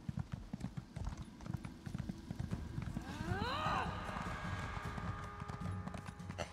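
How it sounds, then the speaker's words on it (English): Steady, rhythmic hooves clip-clop as a horse trots along a road in The Elder Scrolls Online, fairly close and continuous throughout, with a brief whinny-like cry midway. "Let's get on a horsey."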